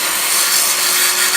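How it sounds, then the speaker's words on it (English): A chop saw grinding the edges of an exhaust expansion pipe, a loud continuous abrasive rasping whine held steady at close range without any talking. "Remember, chop saws are not grinding wheels."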